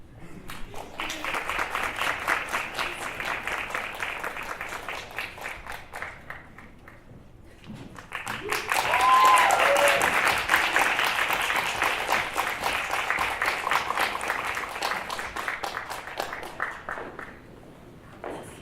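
Audience applause at a university forensics performance, a long stretch of clapping that eases into a lull, then swells again louder before gradually tapering off.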